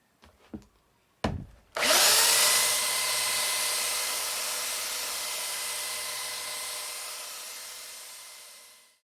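A power sander running on the underside of homemade wooden furniture, a few clicks and a short start, then a loud steady whine that holds and slowly fades before stopping.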